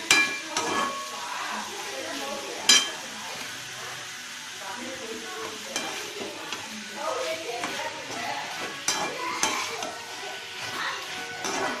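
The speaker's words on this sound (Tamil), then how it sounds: "கொஞ்சம் எறா வதங்கிட்டுருக்கு." Prawns sizzle steadily in a pan with occasional spatula scrapes and clinks, close up, continuing throughout.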